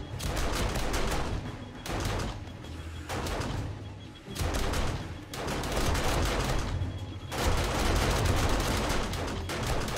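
Automatic base-defense turrets firing in 7 Days To Die Alpha 20 during a blood moon, loud continuous bursts of rapid gunfire in several long volleys separated by brief pauses.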